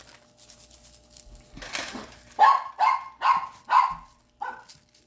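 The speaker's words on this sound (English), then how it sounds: "That's your dog barking." A dog barks five times in a short, evenly spaced run, close and loud, following a stretch of quiet indoor background.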